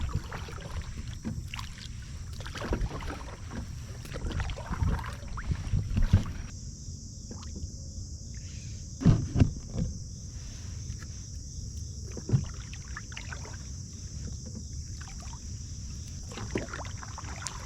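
A kayak paddled alone on a lake at Marsh Creek State Park, with soft, irregular paddle splashes and water swishes close by over a steady outdoor background hiss, with no talking.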